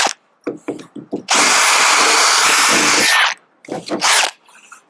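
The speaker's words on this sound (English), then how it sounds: "I'm going to drill these two out as well" Power drill boring out rivets on galvanised roof cappings: one loud, sustained two-second burst of whining drilling, with short bursts of handling clatter and tool noise before and after.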